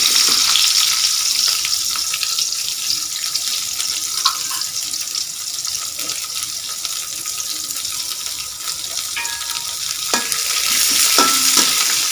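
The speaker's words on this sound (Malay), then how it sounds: "tumis dulu serai dan juga bawang merah" Continuous hiss and sizzle of lemongrass and shallots frying in hot oil, with occasional scraping from stirring, close and fairly loud.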